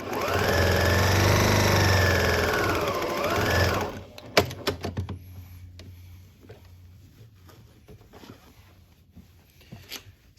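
A sewing machine stitches a store-bought quilt casserole carrier, whirring steadily and loudly for about four seconds before stopping, followed by quiet clicks, fabric shuffling and handling noises.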